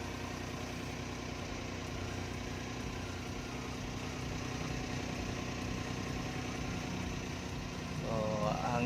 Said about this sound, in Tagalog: Sobrang lamig ng andar ng makina natin mga kal.